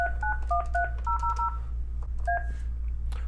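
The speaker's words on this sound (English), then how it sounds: "We'll dial our sample number here." Keypad dialing on a Yealink T27G desk phone: about nine short, crisp two-tone DTMF beeps in a quick uneven run, then a pause before a final beep, with a low steady hum underneath.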